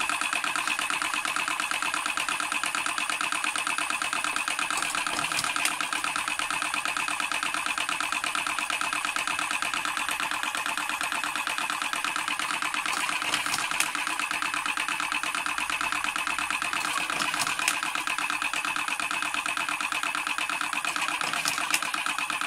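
Tobacco rolling machine running steadily, a constant mechanical whir with a high whine and faint rhythmic clicks, moderately loud and unbroken for the whole stretch with no voices.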